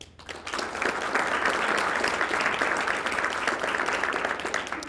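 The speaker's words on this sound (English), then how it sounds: "Those who believe no, please applaud." A town hall audience applauds in a steady, dense wash of clapping that swells quickly and holds for several seconds at moderate loudness, with no voices over it.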